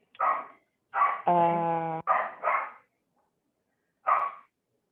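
A neighbour's dog barks five times in short bursts, one drawn out into a whining howl, fairly close and loud against an otherwise quiet room.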